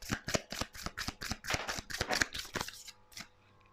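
A deck of tarot cards shuffled by hand, a quick run of about a dozen crisp riffling flutters, close and fairly quiet, tapering off near the end.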